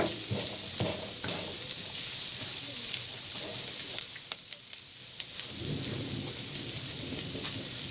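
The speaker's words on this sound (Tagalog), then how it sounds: "Lutuin din natin yung ating sibuyas muna." Onions sizzle steadily in a hot pan while cooking pancit habhab, a dense crackling hiss with occasional sharper pops, close and constant throughout.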